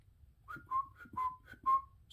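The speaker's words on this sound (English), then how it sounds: "Excuse my whistling" A person whistles a short, bouncy tune of several rising and falling notes, close and fairly quiet, while working on a Briggs & Stratton 5 hp engine build, with low workshop rumble underneath.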